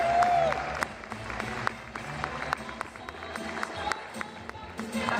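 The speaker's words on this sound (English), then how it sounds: "I want you to do a lovely round of applause for these guys." A convention audience at a Red Dwarf panel applauds in a steady, moderately loud patter of many hands, with a voice speaking over the clapping.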